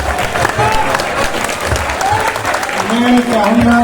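A live audience breaks into sustained applause after a Hindi heroic-verse poetry recitation at a kavi sammelan, dense steady clapping and crowd noise lasting throughout, with faint tonal voices or music rising beneath near the end.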